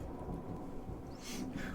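Thunder rumbling outside during a storm, a low continuous roll with a faint swell of rain-like hiss toward the end, quiet and distant, no voices.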